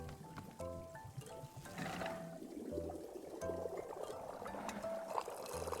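Tea pours into a cup in the video game Wanderstop, a soft liquid trickle with light splashy bursts, quiet and mixed under gentle melodic game music.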